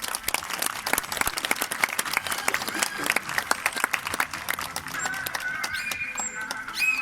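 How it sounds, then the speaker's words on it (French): Spectators at a dolphin show at Planète Sauvage clap loudly and steadily, with scattered crowd voices and some high chirping or whistle-like calls emerging toward the end. "les applaudissements sont aussi positifs, donc on peut les applaudir bien fort"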